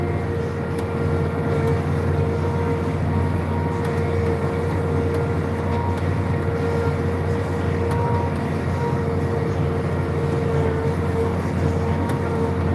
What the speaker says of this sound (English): this tractor's quiet